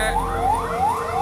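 A wailing ambulance siren sweeps up and down in repeated rising tones, loud and close, with no voices, during an evacuation after an explosion at a hospital in Padang.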